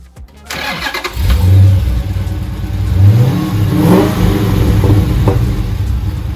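A car engine cranks and catches close by, then revs up and down in a few rising surges before settling into a rough, loud idle. No one speaks.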